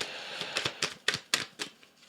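Tarot cards snap and riffle in a quick series of crisp clicks and flicks, close up and fairly loud, with no voices.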